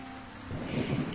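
Rain and thunder sound in a dramatic scene: a low, quiet rumble and hiss that swells about halfway through into a fuller, louder rolling roar, with no one talking.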